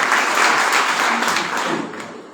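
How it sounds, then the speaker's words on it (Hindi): Seminar audience applauding in a hall, a dense burst of clapping that holds steady and then thins out and fades within a couple of seconds. "बहुत बढ़िया, जोरदार तालियां के लिए"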